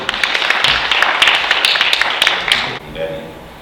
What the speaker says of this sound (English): can we give a round of applause for Mr. Moses?